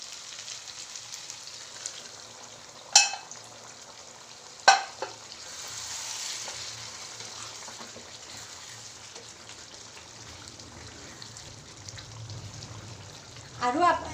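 Pepper chicken sizzles and fries steadily in a pan, a soft continuous hiss broken by a few sharp clatters of stirring and a louder burst near the end.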